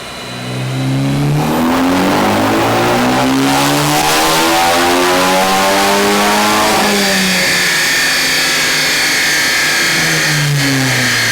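A Ford Focus ST250 on a dyno, engine revving hard and climbing steadily through the gears for several seconds before easing off into a lower, sustained drone; loud and close, with no talk.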